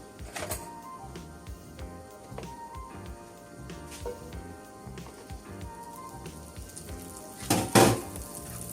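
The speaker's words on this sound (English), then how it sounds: "when I saute spinach, I like to add a little butter" Butter and oil sizzle in a hot skillet while spinach is sauteed, a soft, steady crackle with scattered pops and one louder burst near the end.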